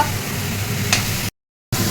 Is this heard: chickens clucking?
no